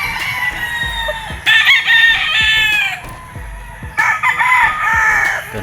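A Red Kelso gamefowl rooster at a game farm crows twice nearby, each loud drawn-out call standing alone, with soft clucks and light ambient noise in between.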